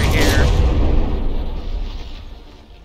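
An explosion aboard a battleship in the naval combat game From the Depths booms loud and close at the start, then rumbles and slowly fades over a few seconds.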